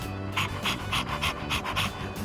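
A dog in the video game Persona 3 Reload pants rapidly and rhythmically, a close, steady series of breathy huffs over a quiet background hum.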